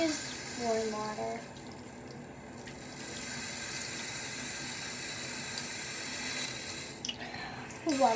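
Water runs steadily from a tap, a continuous broadband rush, with a brief spoken voice at the start and end.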